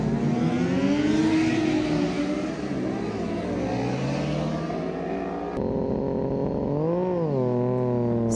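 Racing motorcycles roar at the start of a race at the Brno circuit in the Czech Republic, a loud, continuous engine drone whose pitch climbs and sags as the bikes accelerate, with an abrupt shift partway through.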